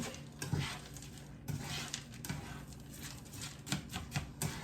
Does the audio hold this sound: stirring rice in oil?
yes